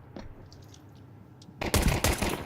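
Gunfire in a Counter-Strike match at an ESL Pro League game between MOUZ and Team Liquid: a quiet lull, then a loud burst of rapid shots near the end.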